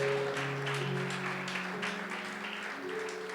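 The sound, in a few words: audience clapping in church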